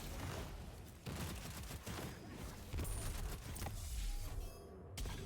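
Weapon fire in the video game Destiny comes as rapid bursts and booms during a Master Lost Sector run with a Void Warlock. It sounds loud and dense, with short pauses between the bursts.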